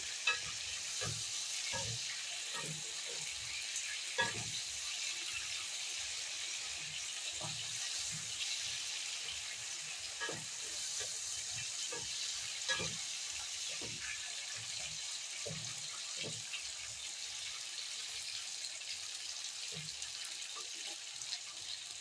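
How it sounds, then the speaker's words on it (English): Onion potatoes fry in a skillet with a steady, bright sizzle throughout, while a utensil stirs them gently in soft, irregular scrapes and taps, close and alone with no talk. "So you stir them gently because they are some are cooking."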